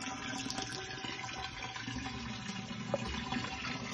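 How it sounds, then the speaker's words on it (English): Apple cider vinegar, 375 ml, being poured into about 75 liters of water in a 150-liter barrel, a steady gurgling, splashing liquid stream close up and continuous throughout. "me pouring 375 ml of apple cider vinegar, it smells potent by the way, into 75 liters of water"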